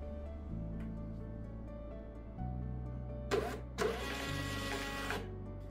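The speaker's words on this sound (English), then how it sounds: "our Trophy thermal printer is printing directly from our iPhone" A Trophy thermal printer prints a label sent from an iPhone, steady mechanical motor whirring in stepped tones with two short louder feed bursts midway, close and quiet with no talk.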